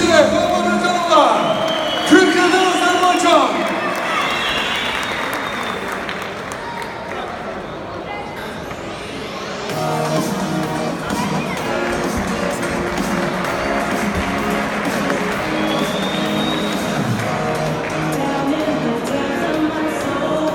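Crowd noise at a kickboxing fight night, Turkey versus Azerbaijan, with a ring announcer talking over it; bursts of cheering and clapping rise near the start, dip briefly, then swell again into sustained applause and whooping.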